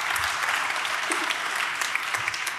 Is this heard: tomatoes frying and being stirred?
no